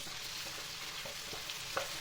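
Chopped tomatoes sizzle steadily in a hot pan with garlic, a constant crackling hiss with a few small pops and no voices.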